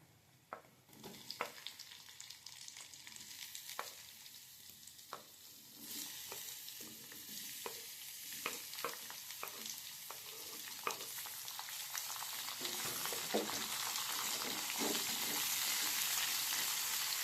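Onions frying in a pan, the sizzle building steadily louder and thicker while scattered sharp scrapes and taps of a stirring spoon punctuate it.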